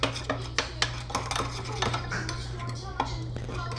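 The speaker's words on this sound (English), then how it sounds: "So you wanna just mix this up really, really well." Herbal shampoo being mixed in a container, with repeated scraping, tapping clatter of a utensil against the vessel in an uneven rhythm, close and moderately loud over a steady low hum.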